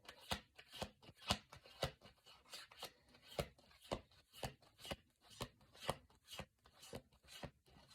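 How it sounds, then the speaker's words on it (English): Cards are shuffled in quick, regular riffling bursts, close and fairly quiet, repeating steadily with short pauses between. "if you're shuffling through your deck"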